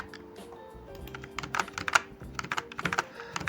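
Computer keyboard typing while writing PHP code, a close, irregular patter of key clicks that starts sparse and grows into quick bursts, with no talk over it.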